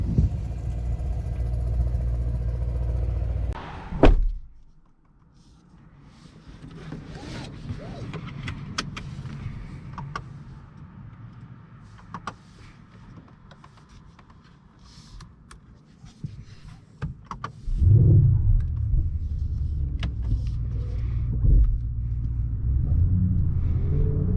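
A 2021 Mercedes-AMG GLE 63 S engine rumbles at a steady idle, cuts out briefly with a click, then restarts and settles back into a loud, low idle.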